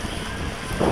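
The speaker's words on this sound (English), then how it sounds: "Here comes a big gust." Strong outdoor wind buffets the microphone in a steady rushing roar that rises near the end, heard while a Walkera X350 Pro quadcopter is being flown.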